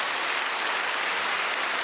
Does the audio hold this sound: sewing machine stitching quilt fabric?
no